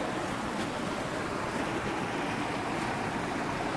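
Steady, continuous rushing of water, broadband and even throughout with no pauses, like a small spring trickling nearby beneath an ice cave.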